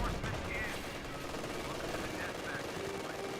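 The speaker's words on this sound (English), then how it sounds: "I don't think I've ever really had an MG42 fire against the Su-76 like that before" A German MG42 machine gun rattles away at a Soviet Su-76 in the Company of Heroes 2 battle game, with continuous gunfire and battle noise under a commentator's voice throughout.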